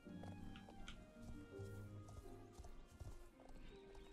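A Shire horse runs in the video game Star Stable Online, its rapid, steady clip-clop of hooves carrying on throughout, with a whinny and background game sounds.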